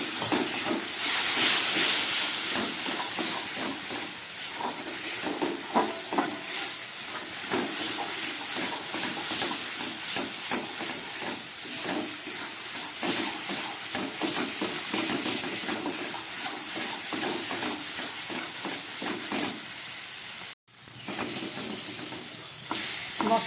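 Spice paste frying in a pan with tomato pieces and a splash of water, a loud steady sizzling hiss running throughout with faint stirring, cut by a brief silence near the end, no voices.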